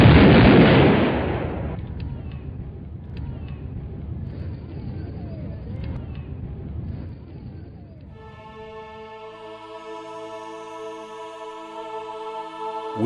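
A single loud blast opens, likely a rifle volley fired at a memorial ceremony, its report rolling away outdoors before softer background sounds and a sustained tonal passage follow.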